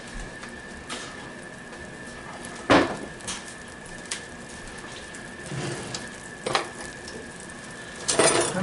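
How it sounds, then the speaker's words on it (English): Two tablespoons of butter melting in a pan for biscuits and gravy, giving a steady, faint crackling sizzle with a few sharper clinks and spatters over it. "Next, I'm going to melt 2 tablespoons of butter."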